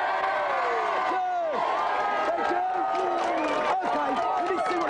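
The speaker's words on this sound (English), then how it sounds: "let's have a big cheer for the Dick Whittington team first" Studio audience on a 1993 Christmas special of a television video-game show, cheering, whooping and yelling loudly and continuously throughout, close and dense.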